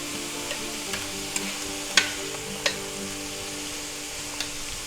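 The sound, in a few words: stirring butter and mushrooms sizzling in pan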